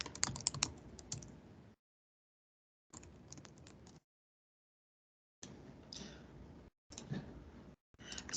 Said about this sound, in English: I'm typing it in my web browser now